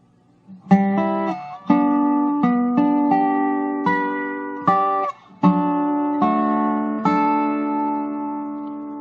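A dobro is picked in a short run of plucked, ringing notes, each sharp attack fading slowly, played alone and close.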